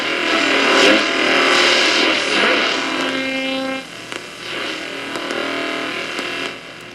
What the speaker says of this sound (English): that was just a quick scan of the AM band. A little bit of noise in there